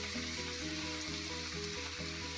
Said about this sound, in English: So you just get the onion in the pan, like this.